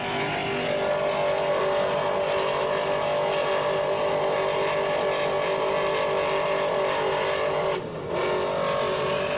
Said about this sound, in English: You can hear the engines respond to his hand as he works that throttle